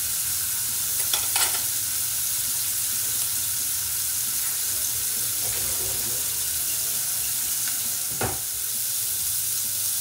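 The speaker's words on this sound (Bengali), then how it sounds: "এবার আমি চিংড়ি মাছগুলো দিয়ে দেব। হালকা করে ভাজবো চিংড়ি মাছগুলোকে" Shrimp frying lightly in hot oil in a kadai, a steady sizzle running throughout with a few brief clinks and stirs, close and moderately loud, no talk.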